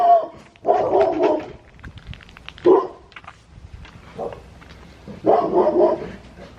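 A pit bull barks in several short bursts, some deeper woofs and a higher yelp, with quiet gaps between them, fairly close.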